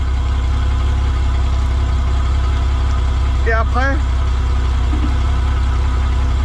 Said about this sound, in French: Donc, on va attendre que le moteur chauffe un peu